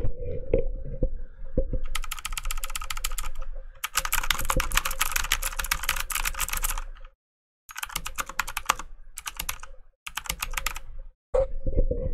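Fast typing on a cheap mechanical computer keyboard, miked very close, comes in dense bursts of loud clicky keystrokes separated by brief silent pauses, with no talking.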